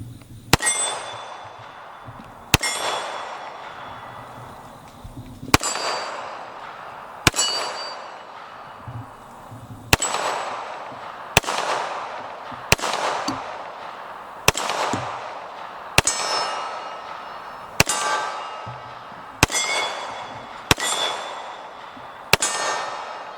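Springfield XDM .45 ACP pistol shots ringing a steel gong outdoors, about fourteen sharp bangs, each leaving a metallic ring that decays, the first few widely spaced and the later ones in a quicker steady cadence.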